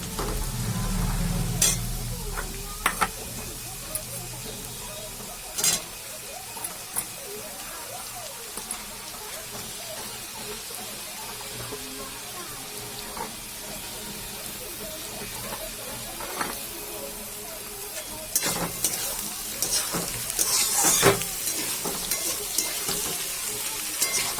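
Onions frying for chowmein give a low, steady sizzle with occasional sharper clatters of stirring and spoon knocks, while a voice talks intermittently over the cooking.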